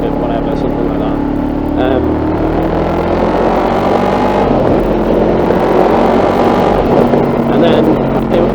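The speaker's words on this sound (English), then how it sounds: "I came across this, which is a 1996 Honda VFR750, the RC36 2" A 1996 Honda VFR750 RC36 motorcycle engine drones steadily while riding, loud and close with wind noise throughout.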